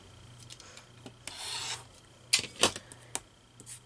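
Fabric quilt square edges trimmed close up, a soft scraping cutting stroke followed by several sharp clicks and a few quieter ticks in a quiet room.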